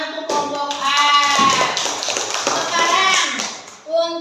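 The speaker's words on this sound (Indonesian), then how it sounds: "Tepuk tangan untuk kelompok A." Students in a classroom clap for a group of classmates, a short burst of uneven hand claps under lively children's chatter, ending with a voice speaking over it.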